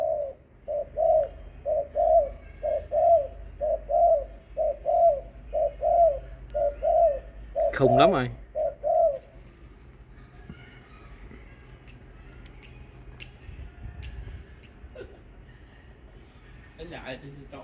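A pigeon coos in a rapid series of about a dozen evenly spaced, throaty coos, loud and close. The cooing then stops, and someone speaks briefly over quiet background noise.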